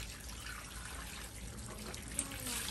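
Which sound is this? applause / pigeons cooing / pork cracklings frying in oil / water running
water running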